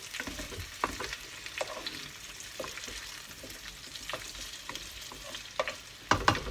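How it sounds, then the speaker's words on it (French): Potatoes frying for an Auvergne truffade sizzle quietly in a pan and are pushed to one side, with scattered scraping strokes and a few louder clatters near the end, close by, with no talking. "on pousse un petit peu les pommes de terre d'un côté"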